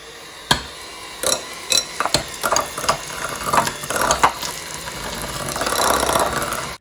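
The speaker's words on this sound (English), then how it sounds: "I'm just going to whisk the butter just to make it nice and creamy." Softened unsalted butter is whisked until creamy for chocolate and pistachio clove cookies, heard as close, irregular clacking and scraping strokes that build into a denser, steadier whisking toward the end, with no talk.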